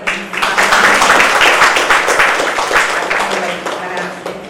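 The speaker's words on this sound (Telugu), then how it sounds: "ఆరోగ్య గారికి ప్రత్యేకంగా మనం చప్పట్లతో స్వాగతం" An audience at an International Women's Day event in an RTC bus stand claps to welcome the chief guest, a brisk burst of applause with rapid overlapping hand claps that gradually tapers.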